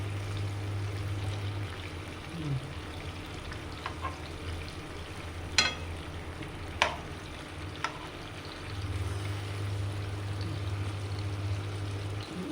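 Fish frying in a new masala spice mix, a steady low sizzle of oil with a few faint clicks and taps from handling the pan, quiet and without speech.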